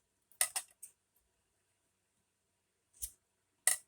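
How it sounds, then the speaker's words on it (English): Scissors snip off the frizzy, frayed end of a ribbon: a quick cluster of close, crisp cuts, a long quiet gap, then two more sharp snips, with no talking. "We can cut this really frizzy end off"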